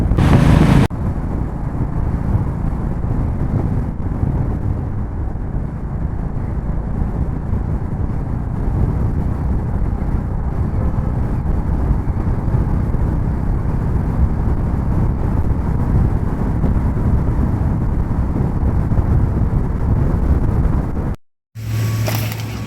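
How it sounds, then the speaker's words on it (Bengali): Steady, loud wind rush buffets the microphone during a motorbike ride through the Himalayan mountains on a Zanskar trip, a constant roaring blast with engine rumble beneath, ending in a brief drop and sharp burst at the end. "ওয়েদারটা খুবই ভালো দিচ্ছে, দারুণ ঠান্ডা হাওয়া দিচ্ছে।"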